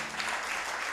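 A church congregation applauds during a sermon, a brief wash of many hands clapping in a roomy hall.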